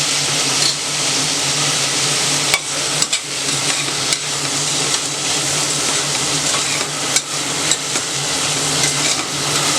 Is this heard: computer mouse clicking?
no